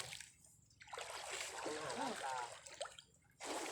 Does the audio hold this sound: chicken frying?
no